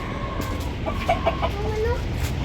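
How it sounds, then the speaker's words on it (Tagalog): Chickens cluck softly in a coop on a farm, a few short calls over steady background noise with no talking. "Tapos, dito naman yung manukan."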